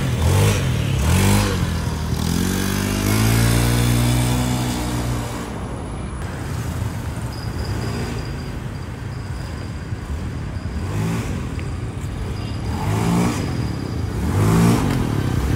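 A Honda Beat fuel-injected CVT scooter engine revs up loudly several times on a test ride, rising and falling in pitch as it pulls away, with a steady mid-pitched drone between the bursts.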